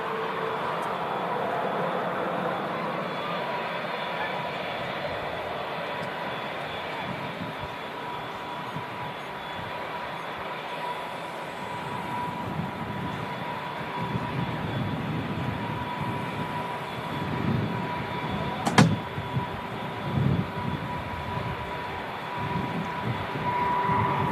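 Low, steady engine rumble of an Airbus A380 slowly taxiing onto its stand at Manchester Airport, heard from nearby outdoors with a constant whine and a brief sharp knock partway through.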